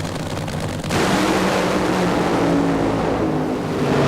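NHRA funny car engines roaring down the drag strip at the 1995 Winston Select Finals in Pomona, a loud sustained blare that surges and thickens partway through and stays steady to the finish.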